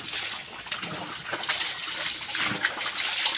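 A child bathing in a water-filled basin splashes and dribbles water continuously, with close, uneven splashes and trickles.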